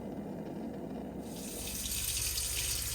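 Hot water gushes steadily from the tap of an Elddis Encore 295 caravan into the sink, a close, continuous splashing rush that grows louder and fuller partway through.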